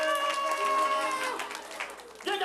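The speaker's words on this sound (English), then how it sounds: "Come on, they're clapping for you." An audience claps for Elroy T. Raccoon at a live-streamed appearance, a steady wash of applause and crowd noise that runs under continuous talking, with a brief swell near the end.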